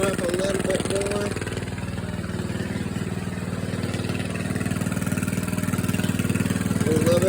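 A motorcycle engine idles steadily while warming up after a cold start following four days parked, a continuous low, even putter held close and loud throughout with little change in pitch.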